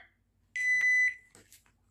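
A timer beeps once at the start of a five-minute eating competition with hot snacks in rainy weather, a single sharp tone held about half a second amid quiet room noise.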